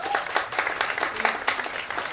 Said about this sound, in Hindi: मिस्टर ओपी वर्मा के लिए आप लोगों के माध्यम से जबरदस्त ताली चाहता हूं